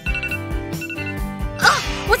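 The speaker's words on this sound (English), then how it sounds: "the alarm! Guess it's time to wake up!" Alarm ringing to wake someone up, a repeating electronic bell-like tone in short pulses over a bouncy background, fairly loud and close, with a brief burst of other sound near the end.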